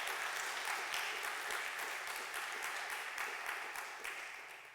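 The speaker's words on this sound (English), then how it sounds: "A big round of applause for Dina" Audience clapping after a speaker at an animal rights talk, a dense wash of many hands that holds steady and then gradually fades toward the end.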